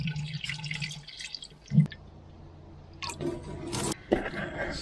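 Water splashes and drips from the engine of a broken-down 1953 DB30 tractor, in a few close, uneven bursts and trickles separated by quieter gaps, with no talking.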